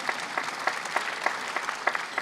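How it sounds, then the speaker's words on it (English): Audience applause at a film premiere Q&A, a steady wash of clapping from a crowd with sharper individual claps popping out in an irregular rhythm throughout. "yeah, you can applaud the costumes"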